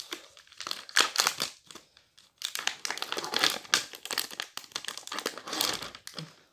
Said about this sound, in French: Le jambon, hein, je suis en train d'essayer d'ouvrir.